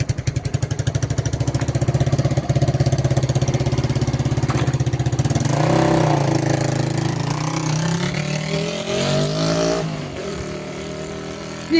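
A motorbike engine idles on a farm in the sun, a steady, loud, close putter with a rough pulsing throb that swells slightly midway and holds on without any voices.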